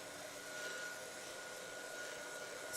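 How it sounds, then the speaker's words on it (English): A hair dryer blows steadily at close range over a craft journal page, a constant airy whoosh with a faint tonal whine running through the whole stretch, with no talking. "So, I am going to dry this off."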